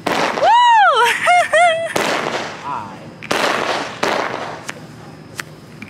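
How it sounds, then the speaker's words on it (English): Fireworks set off from a downtown rooftop during a 4th of July weekend give loud whistling, rising shrieks that end in sharp pops and crackles, followed by further bursts as people talk nearby. "About to do fireworks."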